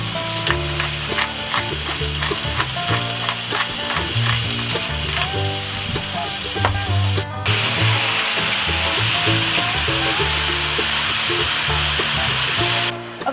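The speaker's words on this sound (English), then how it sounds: "the ground beef is just about finished cooking" About a pound of salted, peppered ground beef sizzles steadily in a Lodge cast iron Dutch oven over a campfire, a constant close hiss broken by scraping stirs, with no talking.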